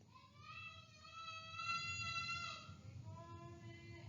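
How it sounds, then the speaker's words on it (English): Children's high, sustained screaming voices carry from elsewhere in a house, distant and moderately loud, continuing steadily throughout with a low background hum. "you can probably hear my kids screaming across the house right now."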